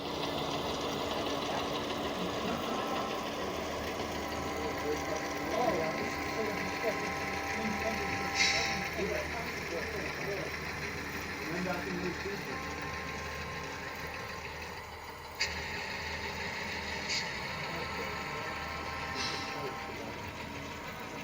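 HO scale BN model locomotive grinding steadily uphill on a layout, a continuous low mechanical hum and whine with faint clicks, under quiet talk.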